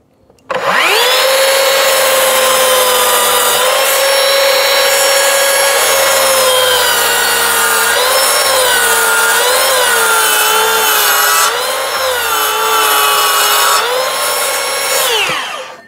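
Hand saw cutting through a wooden board while building garden room windows, a loud, steady run of rasping strokes that continues almost unbroken for about fifteen seconds, close up and with no talking.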